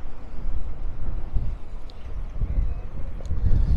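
A strong headwind buffets the microphone while riding against the wind around Maspalomas on Gran Canaria, giving a continuous low roar with rising and falling gusts.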